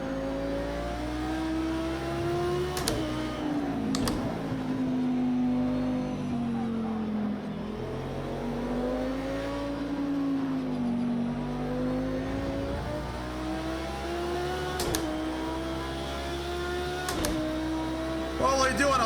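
A race car engine in a sim racing game drones and revs continuously, pitch rising and falling through gear changes after the rear tires lock up and it drops to first, with a few sharp transient clicks and some speech-like sound mixed in.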